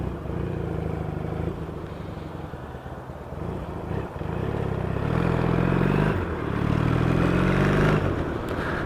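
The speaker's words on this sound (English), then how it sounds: "you keep revving it up when you're stopping thinking it's going to cut out" A Triumph or Yamaha XS650 motorcycle with louder pipes idles and rumbles steadily, then revs up twice in longer swells, loud and close with no voices.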